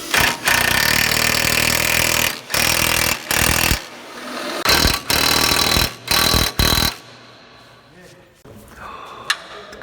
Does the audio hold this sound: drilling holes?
yes